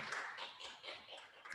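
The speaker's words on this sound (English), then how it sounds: "give him a round of applause" Applause from a church audience breaks out for a speaker during a Bible talk, a dense clatter of many hands clapping continuously for under two seconds, moderately loud with no voices over it.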